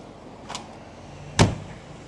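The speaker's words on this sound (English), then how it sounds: "I need to close my door." The door of a 1979 Mercedes-Benz 450SL is pushed shut: a soft first bump, then one solid, close thud, set against a quiet background.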